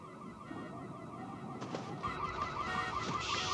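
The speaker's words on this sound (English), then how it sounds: "It's the power alarm." A power alarm goes off, a wavering, repeating electronic tone that starts partway through and keeps sounding steadily over a low background rumble, with no one talking.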